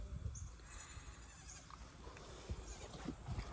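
Goats bleat outdoors on a farm, several wavering calls at moderate distance over low wind and rustling background noise.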